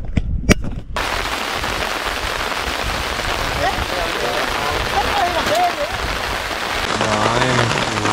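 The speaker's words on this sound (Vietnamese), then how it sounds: "Bên kia đang mưa, đang dần dần mưa qua đây nè." Rain moves in over an open fishing spot by a hut and falls steadily, a dense, loud hiss of drops that fills the whole stretch after a brief quieter opening with a few sharp knocks.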